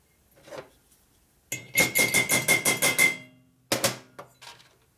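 Hammer tapping steel dowel pins into a 1958 Harley-Davidson Panhead 74ci engine top end: a rapid run of about eight close, bright metallic strikes, each ringing out, with a few scattered taps before and after.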